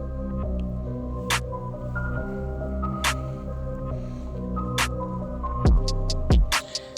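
Andis Masters hair clippers with a 0 guard closed buzz steadily and close by while cutting a skin fade, a constant pulsing hum broken by sharp snips and clicks near the end.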